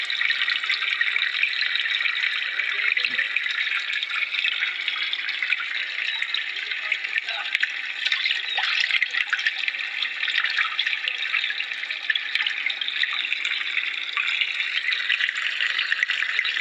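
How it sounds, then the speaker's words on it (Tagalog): Water pours from an aquarium filter into a crayfish tank, a steady, even splashing trickle that runs without a break for the whole stretch, close and moderately loud with no voices. "Ma-filter yung mga dumi-dumi sa tubig."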